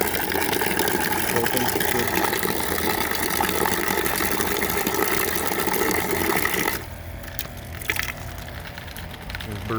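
A 12V DC water pump in an off-grid cabin drives water out of a tap. A loud, steady whir of motor and rushing water runs for about seven seconds, then drops sharply to a quieter hum, with someone talking over it.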